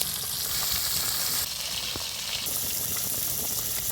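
Amudi fish frying in oil give off a dense, unbroken sizzle with bubbling crackle, close and fairly loud for the whole stretch, briefly dipping once, with no talking.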